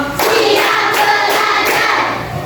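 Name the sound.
class clapping in a counted clap pattern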